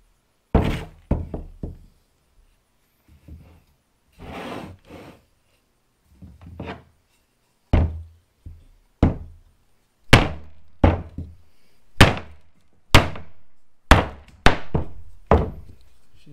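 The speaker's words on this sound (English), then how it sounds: "So piece of 4x4, I'm gonna try to baton through it with my blade." A knife blade batoned through a piece of 4x4 wood, giving a long series of sharp, close wooden knocks and thunks that start irregular and soft, then come louder and steadier about once a second.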